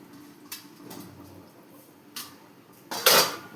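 Chicken is mixed with masala in a bowl, a few scattered clinks and scrapes of a utensil against the dish, with one louder knock near the end.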